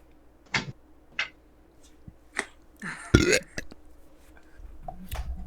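A man burps into a microphone, a short throaty eruption among several brief clicks and pops, with a louder crackling burst partway through and faint background noise.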